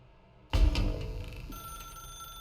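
A telephone in The Stanley Parable starts ringing suddenly with a loud bright burst, then a sustained tone trails off quietly over a faint background hum, with no voices.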